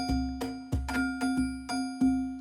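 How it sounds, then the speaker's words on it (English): A Corpus resonator in Ableton Live gives a melodic percussion hit a metallic, bell-like ring. About seven evenly spaced strikes each ring briefly with a steady pitched tone beneath them, clear and close. "In this case, it sounds a lot like a bell."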